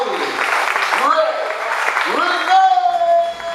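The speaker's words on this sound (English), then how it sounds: "Put your hands together. Start clapping right now." Audience at a live stage show clapping steadily as an act is introduced, with a sung or sustained tonal voice riding over the applause toward the end.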